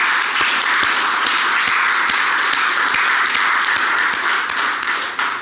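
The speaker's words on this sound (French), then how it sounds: "Il m'a dit « applaudis-les de ma part », donc je le fais" Dense, sustained applause from a congratulated audience, many hands clapping evenly for several seconds with a few sharper nearby claps standing out.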